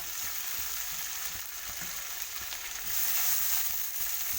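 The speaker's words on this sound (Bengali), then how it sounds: "আর এগুলো আমি বেগুনগুলো তুলে দেবো" Eggplant pieces frying in a pan, a close, steady sizzle with soft stirring knocks and a louder burst near the end.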